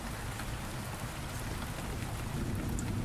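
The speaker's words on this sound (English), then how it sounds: "I can't hear you over the rain." Steady rain hisses and patters across surfaces in the video game Rainswept, a dense, even wash of drops with faint distant rumbles and no talking.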